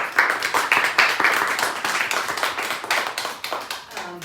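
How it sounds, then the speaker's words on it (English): An audience gives a round of applause for community helpers at a LitFuse event, a crowd of hands clapping steadily and fairly close, tapering slightly toward the end. "So if we could give those people a round of applause."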